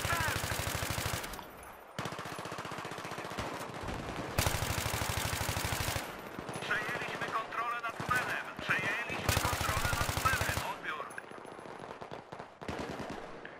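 Machine gun fire in Battlefield 3 multiplayer, loud sustained bursts of rapid automatic shots separated by short pauses, with a voice speaking between and over the volleys.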